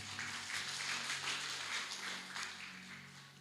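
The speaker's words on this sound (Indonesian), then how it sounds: "Tepuk tangan dulu untuk Tuhan" Quiet, steady applause from a church congregation, soft rapid clapping that fades slightly toward the end.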